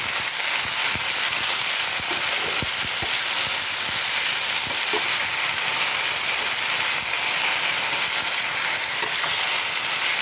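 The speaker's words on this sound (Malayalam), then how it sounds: "കോവയ്ക്ക് ഇട്ട് നമുക്ക് നന്നായിട്ട് ഇളക്കി കൊടുക്കാം." Steady sizzling of ivy gourd frying in a pan, with scraping and clinking of a spoon stirring throughout, continuous and close.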